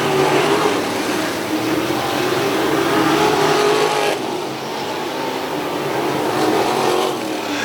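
Wingless sprint race cars at Wilmot roar out of turn two on the final lap of a heat race, a loud, dense pack of engines that stays strong and then dips slightly as they move on.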